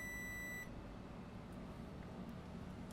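A multimeter gives one steady continuity beep that stops abruptly about half a second in when its probes sit across shorted diodes on an iPad Pro 12.9 board, leaving faint room noise.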